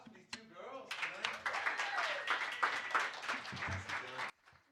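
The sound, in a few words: audience applause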